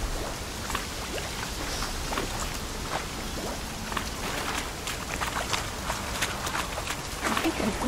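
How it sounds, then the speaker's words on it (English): Steady rainfall in The Witcher video game patters densely and evenly, with scattered sharper drops landing on surfaces throughout and no voices over it. "Yeah, it's raining, goat."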